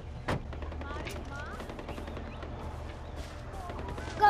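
Gunfire in Far Cry 4 rattles in rapid bursts, with a sharp shot early and a louder blast at the end, under excited talking voices.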